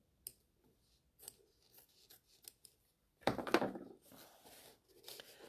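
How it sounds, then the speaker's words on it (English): Scissors trimming patchwork fabric give a few faint, quick snips, then one louder, longer crisp cut through the cloth, followed by a couple of soft closing snips, close and quiet. "I'm just going to trim that back a bit."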